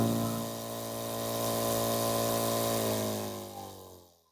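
Irrigation water pump motor for drip-tape watering in a pepper field, droning steadily at high speed and close by, then winding down and fading as it slows.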